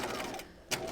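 A sewing machine runs a line of stitching up the facing of a dress, a close rapid mechanical chatter that eases briefly and then surges back.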